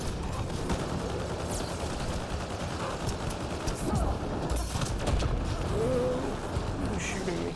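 Mass Effect Andromeda multiplayer gunfire rattles as steady, fairly distant rapid shots and mechanical clatter with a constant battle din, moderately quiet and continuous.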